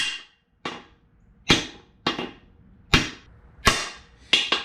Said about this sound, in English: take my little mini sledgehammer and make sure we're lined up properly. And just go ahead and drive it straight out.